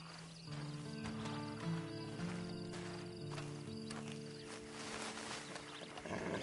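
A horse in Red Dead Redemption 2 snorts and moves amid a steady game ambience, with hoof clops and low animal sounds over a sustained tonal music drone.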